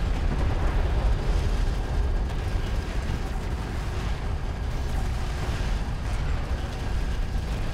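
Heavy, continuous gunfire and explosive booms in the real-time strategy game Deserts of Kharak, a dense, loud, rumbling barrage that never lets up across the whole stretch.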